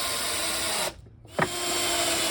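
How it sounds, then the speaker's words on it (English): A power drill driving screws into a wooden cook drawer divider: a loud whirring run that halts abruptly, then a short clunk and renewed whirring. "So this divider I'm going to screw in from the bottom, and then I'll screw in these guys from the bottom also for extra reinforcement."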